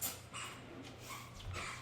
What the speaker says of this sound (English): Sorry if you can hear my dog squeaking in the background.